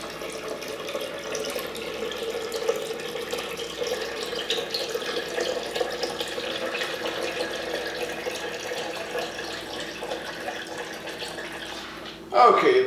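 Filtered water runs from a kitchen tap into a pot, filling it about halfway for Jamaican red peas soup, a steady close hiss and splash that continues throughout before a sudden louder clatter at the very end.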